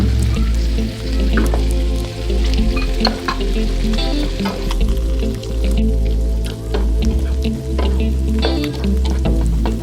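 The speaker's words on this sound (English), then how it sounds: "And we'll just stir this around for about 2 to 3 minutes" Vegetables for flame-broiled salmon teriyaki sizzle loudly in a pan while being stirred, with a steady frying hiss and repeated scraping strokes across the whole stretch, and no one speaking.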